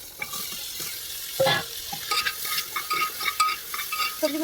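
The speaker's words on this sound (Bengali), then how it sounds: "আমি একটু ভাজবো সবজিগুলো" Vegetables frying in a pan with spice, stirred with repeated scraping strokes over a steady close sizzle, no voices.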